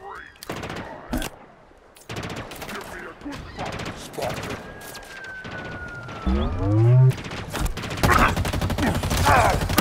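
Gunfire in Halo Infinite combat, rapid bursts of automatic weapon fire crackling in volleys with a rising whine and deep rumble, loud and busy, broken by short pauses.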